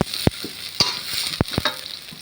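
Shallots being stir-fried in a pan give a steady low sizzle, broken by a few sharp spatula scrapes and knocks against the metal, with no voices.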